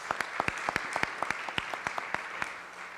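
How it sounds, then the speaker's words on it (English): Scattered individual claps ring out in a steady patter from an audience at a ceremony honoring women, sharp and distinct rather than a dense roar, continuing evenly for a few seconds. "Let's give them a round of applause"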